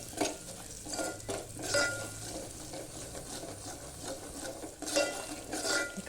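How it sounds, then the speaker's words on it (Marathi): Semolina for kheer is dry-roasted and stirred in a pan. Soft scraping and shuffling of a spoon against metal continue with a faint, even background, quiet and close, with no voices. "आता हा मस्तपैकी असा छानसं भाजून घेते लालसर रंग येऊपर्यंत"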